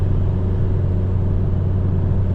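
Opel Vectra DTI diesel engine droning in fifth gear at highway speed, a steady loud low rumble with road noise heard from inside the car.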